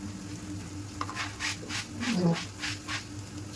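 Eggs with turmeric, salt and spice masala frying in oil, a steady soft sizzle with stirring scrapes close by, faint and continuous under a low background hum.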